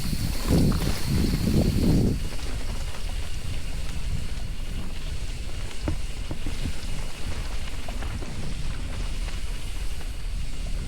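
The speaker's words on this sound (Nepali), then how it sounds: "पानी पर्नु लाग्यो सुन्दर जलमा" Rain begins falling over a jungle, a steady close hiss of drops mixed with wind buffeting and low rumble, with a brief louder rustling burst in the first two seconds.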